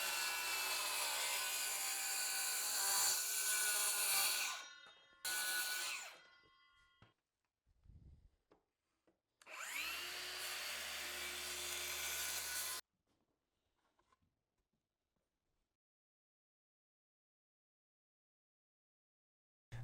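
Circular saw cutting a dado into a wooden board, a loud close whine that bites in, briefly drops away, then cuts again before spinning down to silence.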